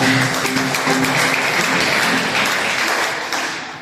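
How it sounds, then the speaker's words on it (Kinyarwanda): A church congregation applauds steadily, a dense wash of clapping from many hands that holds even and full before easing off slightly at the end, with no talk over it. "Amashyi menshi ku Mana"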